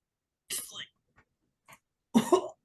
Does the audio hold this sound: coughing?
yes